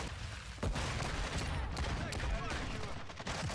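Rapid bursts of gunfire in the shooter game Call of Duty: Modern Warfare 2, a pistols match, crackling steadily at moderate distance with some overlapping shots, heard alongside faint voices of players talking.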